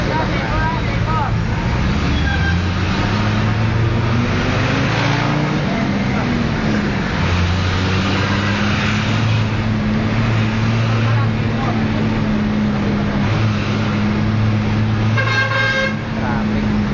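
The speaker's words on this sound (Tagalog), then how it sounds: "Traffic." Busy road traffic on EDSA in Pasay, near the Rotonda heading toward MOA: a constant rumble of engines fills the scene, with a few car horn toots close by and a burst of honking near the end.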